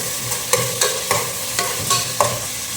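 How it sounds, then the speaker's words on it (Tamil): Whole spices such as cinnamon, cloves, cardamom, star anise and pepper fry in a pan for mutton dum biryani, a steady close sizzle punctuated by sharp stirring clinks at roughly regular intervals. "இப்போ ஸ்பைசிலாம் போட்டுக்கலாம். பட்டை, கிராம்பு, ஏலக்காய், ஸ்டார் ரைஸ், பெப்பர்,"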